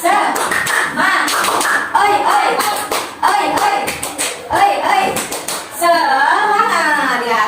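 A classroom group claps the rhythmic tepuk semangat cheer, a series of loud, sharp clap bursts in short patterned groups with chanting voices mixed in between.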